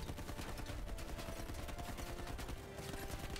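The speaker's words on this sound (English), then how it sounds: "We're under a lot of fire." Dense, continuous gunfire in a video game battle, rapid overlapping shots and bursts filling the clip loudly from start to end.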